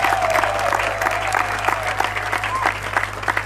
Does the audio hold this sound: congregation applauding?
yes